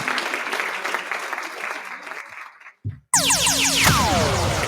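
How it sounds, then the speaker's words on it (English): A live audience claps for a guest on a safety news show, a dense patter that thins and fades out, then gives way to a bright electronic jingle of sweeping tones. "Can we get a round of applause for her?"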